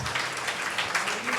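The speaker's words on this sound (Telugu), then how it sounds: "ఒకసారి గట్టిగా చప్పట్లు కొట్టండి." An audience at a Christmas gathering for transgender people and sex workers claps in a brief, dense burst of applause, steady and moderately loud.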